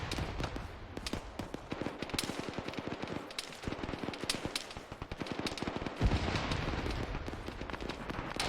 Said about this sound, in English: where the fuck are those shots coming from?